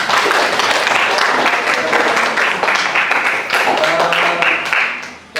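A school music class claps for a classmate, a dense burst of close applause lasting several seconds before it cuts off abruptly, with voices mixed in.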